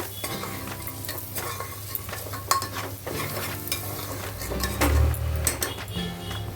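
Red chilli powder being stirred into soya pulao in a pan, with a steady scraping and sizzling churn of spoon against metal and frying food, close and continuous, with occasional clinks.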